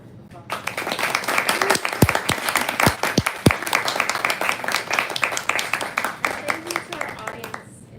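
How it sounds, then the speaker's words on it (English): Audience at a poetry reading bursts into sustained applause, a dense wash of many hands clapping that swells quickly and carries on steadily for several seconds with a few sharp nearby claps standing out. "Let's give them a whole round of applause."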